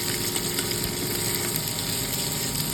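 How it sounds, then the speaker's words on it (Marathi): Chopped onion sautéed in a pan for a pea and potato khichadi, giving a dense, continuous sizzle and crackle close up, with no voices. "कांदा आपण मस्त गुलाबी रंग येईपर्यंत त्याला परतवायचा आहे."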